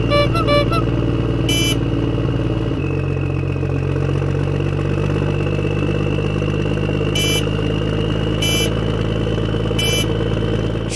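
A cartoon motorbike ridden by two jackals through a jungle gives a steady, loud engine drone that drops in pitch partway through, with short bursts of effects over it.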